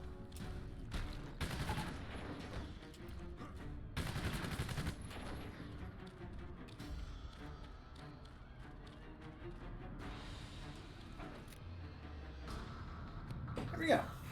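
Bursts of video game gunfire from Prototype, rapid fusillades and machine-gun volleys rattling in clusters amid a busy city battle, with someone talking over the shooting.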